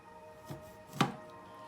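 Two quick knife cuts slicing calamansi on a cutting board, a soft one followed by a sharper, louder chop, in an otherwise quiet room.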